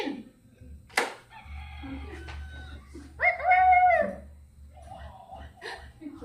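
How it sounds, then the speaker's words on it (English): A toy plays a chicken clucking sound, a short electronic squawking burst at mid-volume, with a low hum underneath and brief voices and clicks around it. "That sounds like a chicken."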